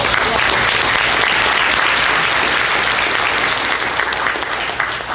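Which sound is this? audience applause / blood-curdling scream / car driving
audience applause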